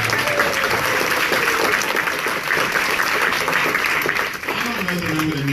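Audience at a community meeting opposing the I-270 highway widening breaks into loud, dense applause that holds steady throughout, dipping only briefly near the end, with a voice faintly audible beneath it.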